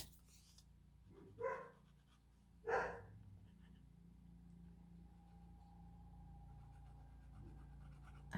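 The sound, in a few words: dogs barking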